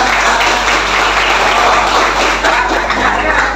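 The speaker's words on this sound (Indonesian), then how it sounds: "tepuk tangan dong buat dia" High school students in a classroom applaud a classmate who answered a question, a sustained wash of group clapping over a low steady hum, fairly close and even in loudness.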